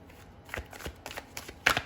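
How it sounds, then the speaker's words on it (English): Tarot cards being handled and pulled from a deck, a quick run of soft papery flicks and shuffles close by, ending in a sharper snap. "I'm going to pull a tarot card to go with those two oracle cards."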